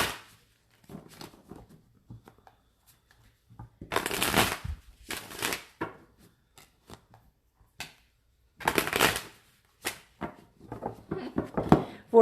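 Tarot cards are shuffled by hand in several bursts of crisp riffling and flapping, close and fairly loud, separated by quiet gaps with soft taps and handling sounds.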